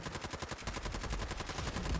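Rapid lever action rifle shots ring out in Fallout 4, a close, fast string of sharp cracks in an even rhythm, with heavier low booms toward the end and no talking.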